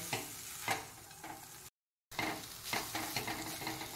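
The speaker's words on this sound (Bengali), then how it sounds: "দিয়ে দেওয়ার পর এবার ভালো করে মিক্স করে নিতে হবে যাতে মশলাটা নুডলসের সাথে খুব ভালোভাবে মিশে যায়।" Maggi noodles mixed with masala are stirred in a pan, with a steady sizzle and scraping close by, a short silent break, then more stirring.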